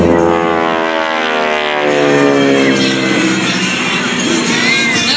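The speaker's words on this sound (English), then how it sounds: "That's a bark, that big old Hamilton stand propeller going by, just breaking the sound barrier that tips the aircraft." A 5,200-pound airshow plane with a Hamilton Standard propeller and a 1,340 cubic-inch Pratt & Whitney radial engine passes, its loud, rasping propeller bark and engine roar sweeping by amid crowd noise.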